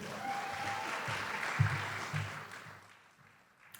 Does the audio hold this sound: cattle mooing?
no